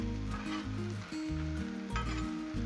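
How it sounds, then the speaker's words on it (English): Potatoes, peppers and onions frying on a Blackstone griddle make a soft, steady sizzle, heard briefly beneath a louder low tonal backing. "these taters are frying up so nice"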